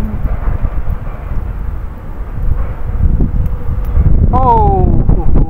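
Gusty wind rumbles and buffets close to the microphone during airgun fishing, growing stronger toward the end, where a brief rising whine cuts through.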